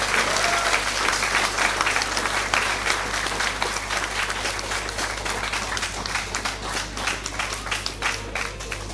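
Loud, sustained applause from a pageant audience at the Miss & Misters Ogre 2015 contest, dense rapid clapping from a large crowd, with a low steady hum underneath throughout.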